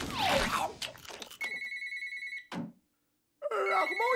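In a French cartoon, a telephone-like bell rings in a sustained electronic trill after a burst of busy cartoon sound effects, then a short whoosh, a pause and further effects, with voices nearby.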